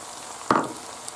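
Chopped tomato tipped into a hot pan with chard and bacon, giving one short burst of sizzle that flares up loudly and then settles back into a low, steady frying hiss.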